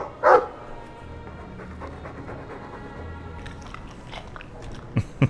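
Mabari war dog from the Dragon Age II video game, with one loud snapping bark or bite burst near the start, then quieter panting and chewing textures, and two short sharp sounds near the end.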